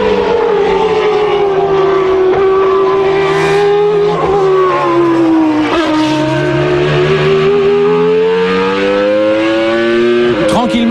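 Renault Espace F1 with a 3.5-litre Formula One engine and sequential gearbox, screaming loudly at very high revs, the pitch dipping and climbing again through gear changes in a sustained, piercing howl.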